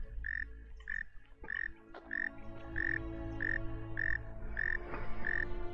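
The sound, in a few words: frog croaking in video game The Forgotten City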